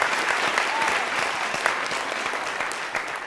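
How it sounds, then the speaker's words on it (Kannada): Dense, steady applause from a studio audience on a singing reality show, welcoming a Chitradurga traffic police officer onto the stage; continuous clapping throughout with no talk. "ಚಪ್ಪಾಳೆಯೊಂದಿಗೆ ವೇದಿಕೆ ಮೇಲೆ ಬರ್ಮಾಡ್ಕೊಳ್ಳೋಣ."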